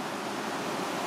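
A small river running through the village of Killin, Scotland, near the Falls of Dochart: a steady, broad rushing wash of water, dense and continuous, with no voices.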